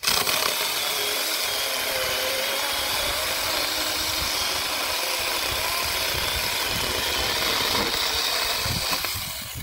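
A Saker 4-inch mini chainsaw cuts through a larger piece of apple wood, a continuous buzzing motor and chain grinding steadily at close range for nearly ten seconds without speech.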